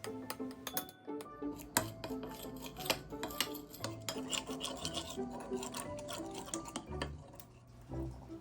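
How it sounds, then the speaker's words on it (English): Quick, irregular scraping and clinking, like a spoon stirring a thick paste against a bowl, close up with no voices. "Mix this together to make a thinner paste."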